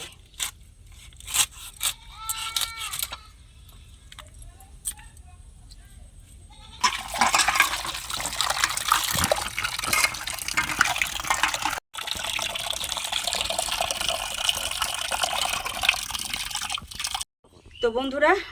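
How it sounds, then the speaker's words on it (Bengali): A kitchen tap runs while fish are washed: after a short stretch of voice and quiet, a steady, fairly loud gush of water pours for several seconds, briefly cut off twice. "মাছগুলো খুব সুন্দর করে ধুয়ে নিয়েছি কিন্তু আমি আরেকবার ধুয়ে নেব কল খুলে দিয়েছি"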